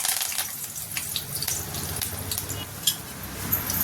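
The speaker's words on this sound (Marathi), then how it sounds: "कढई तापलेली आहे, त्यामध्ये आपण भरपूर सारी कढीपत्ता टाकायचा आहे." A loud burst of hissing and crackling as a large handful of curry leaves hits hot oil in a heated wok, continuing as a dense sizzle for a few seconds.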